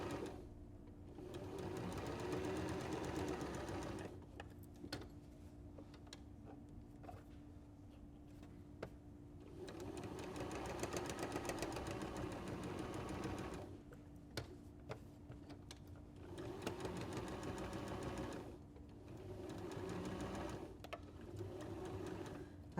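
A sewing machine stitches around a unicorn applique, pivoting at the ear, in several steady whirring runs with short pauses between them. The needle clatters quietly and evenly, close by.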